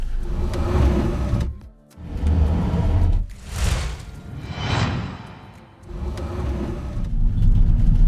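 A car drives on a short trip home, with a continuous close road rumble and engine hum broken by a few dips and surges as it slows and speeds up; no talking.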